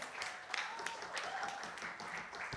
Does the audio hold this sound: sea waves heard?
no